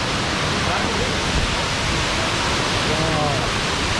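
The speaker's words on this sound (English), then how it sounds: "You can hear the sound of water." Abbey Falls in monsoon flow, a broad, steady roar of rushing, crashing water, loud and constant with no breaks, a voice faintly present beneath it.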